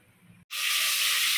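Onions hit hot oil in a frying pan for a biryani, bursting into a loud, steady sizzle after a brief silence and continuing strongly to the end, with faint low kitchen noise before it.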